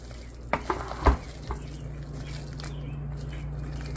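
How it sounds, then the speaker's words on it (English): Chicken and rice being stirred in a crockpot: a few soft scraping and clinking stirs near the start, then a low steady bubbling hiss from the hot pot, with no talk. "let's just go ahead and stir this in"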